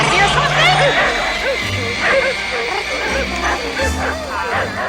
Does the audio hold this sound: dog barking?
yes